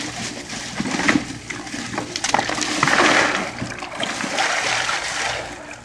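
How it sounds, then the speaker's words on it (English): Ice dropped and stirred into a bucket of water for an ice bucket challenge, a steady wet splashing and sloshing with scattered clinks and splatters, close and fairly loud throughout without speech. "so I've got ice I'm actually putting in here"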